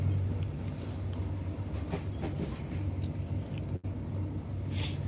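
A train rumbles steadily along the rails with a low, continuous roar and faint rhythmic clatter, loud and close.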